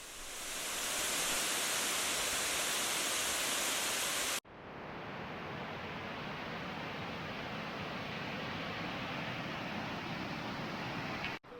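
Ganoga Falls, a 94-foot waterfall in Ricketts Glen State Park, roars in a steady, dense rush of falling water, loud and unbroken, with a brief cut partway through and no voices.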